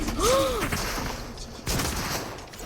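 Gunfire from a weapon in the video game Fortnite: a loud burst of shots up front, then a second volley after a short pause, with a rising whoosh effect and faint talk mixed in.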